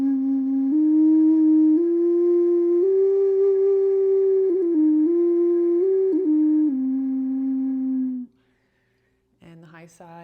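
Ocarina low side played alone, a pure breathy whistle-like tone stepping through three notes up and back down, sustained and close, ending in a brief pause and a short sound.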